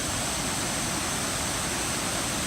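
The rushing water of Shadow Creek, with roaring rapids along a mountain trail, makes a steady, even roar that runs unbroken throughout.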